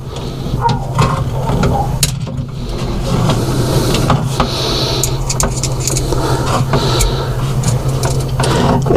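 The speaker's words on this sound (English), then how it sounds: "Final screw going in." A screw is driven in while a card reader is installed on a claw machine, heard as loud, close ratcheting and mechanical whirring in uneven bursts over constant hum.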